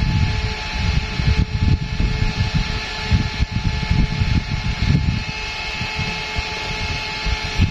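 A double-head USB electric car fan for the back seat runs steadily, a continuous whirring hum with broad airy rush that stays at an even, fairly loud level throughout.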